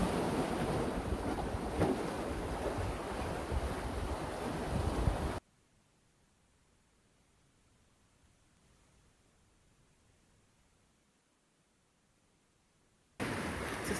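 Ocean waves wash against the coastline of Timor Leste, a loud, steady surf roar with wind buffeting the microphone, cutting to near silence midway before the crashing surf returns at the end.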